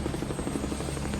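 Helicopter flying during the Hurricane Katrina evacuation in 2005, its rotor beating in a steady, rapid rhythm that stays loud and close throughout.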